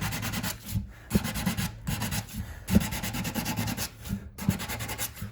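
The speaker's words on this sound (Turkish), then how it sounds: "el zımparasıyla hem düzelterek hem de zımparalama işlemini yapmış oluyorum" Sandpaper is rubbed by hand over a wooden door threshold in rhythmic back-and-forth strokes with brief pauses between passes. The scratchy rasping is close and fairly quiet.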